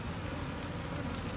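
A swarm of honey bees being gathered for hive keeping in Phu Yen, Vietnam, gives off a dense, steady buzzing hum that fills the whole short stretch at close range, with no voices.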